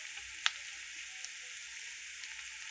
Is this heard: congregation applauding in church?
no